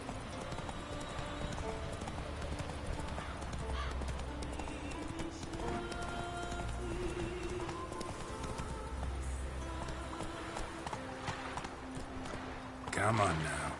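Roach, a horse in a video game, gallops in steady rhythmic clip-clop hoofbeats over a continuous game soundscape, with a brief louder burst near the end.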